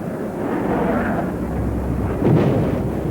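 A wartime bombing raid with high explosive and incendiary bombs produces a dense, continuous roar of distant blasts that swells into a heavier thud near the end.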